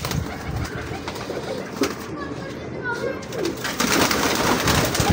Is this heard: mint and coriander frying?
no